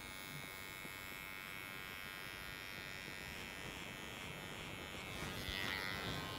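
Electric hair clippers buzz in a steady, close drone while shaving up into a faded hairline during a barber class, running without pause.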